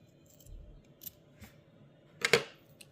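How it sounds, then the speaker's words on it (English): Scissors snip once through a loop of yarn during a crochet project, a single sharp close cut after a few faint handling rustles in a quiet room. "So just cut the loop in half."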